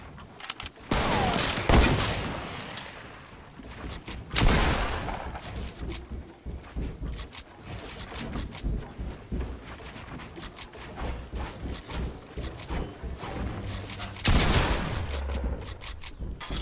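Shooter video game gunfire: loud bursts of rapid automatic fire crackle in repeated volleys, with heavy booming shots near the start and again toward the end, dense and close throughout.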